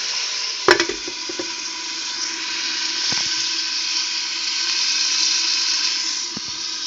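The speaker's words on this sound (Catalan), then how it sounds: "Se deixa fregir un poquet." Chorizo sausages and pork ribs fry steadily in a pan, a continuous close sizzle with a few brief clatters of stirring, no voices.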